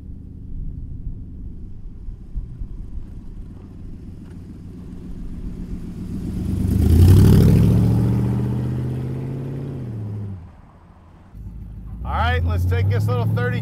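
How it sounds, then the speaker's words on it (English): A 1932 Plymouth street rod with a custom exhaust system rumbles steadily while driving, swelling louder mid-clip as it accelerates, then dropping back to a low idle-like burble before picking up again. "It's got an awesome exhaust system on it."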